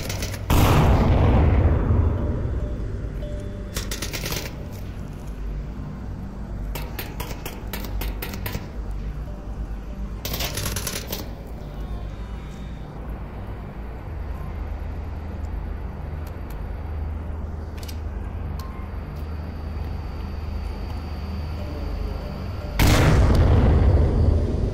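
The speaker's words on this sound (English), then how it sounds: "Oh, I hit a grenade behind us." In the VR shooter Onward, a grenade blast booms nearby at the start, followed by scattered gunshots and distant rumbling in a dim sewer setting, with another heavy blast at the end.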